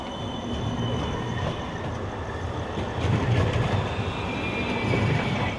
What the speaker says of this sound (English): Oh, here comes the train. That's the green line that we've been riding on.